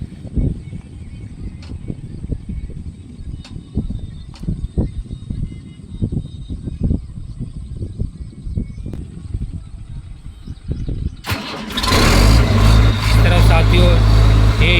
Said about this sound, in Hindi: साथियों ये स्टार्ट हो चुका मशीन और इसका आरपीएम शो कर रहा है